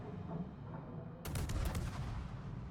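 Destroyer guns open fire on an enemy Z-23 in a naval combat game, a sudden loud onset of rapid, overlapping booming shots that continues over a rumbling background.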